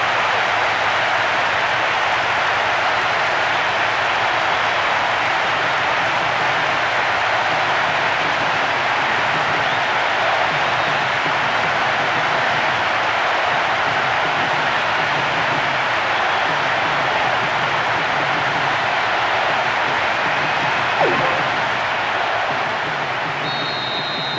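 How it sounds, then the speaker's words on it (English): Stadium crowd in Winning Eleven 2009 roaring steadily, a broad, continuous wash of cheering that holds at the same level throughout. "That strike has just brought so much excitement and cheering. What an atmosphere."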